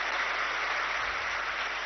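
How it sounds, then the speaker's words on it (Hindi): A dense, steady wash of audience applause at a panel discussion, a continuous even roar of many hands clapping that holds its level from start to finish with no pauses. "जोरदार ताली देंगे डॉक्टर भाई के लिए"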